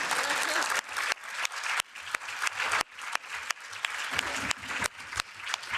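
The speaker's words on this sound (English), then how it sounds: "can we give a very big round of applause to yourselves first?" Audience at an anti-racism and diversity week panel event applauds steadily throughout, a dense, loud clapping with occasional sharper individual claps and slight surges, no talk over it.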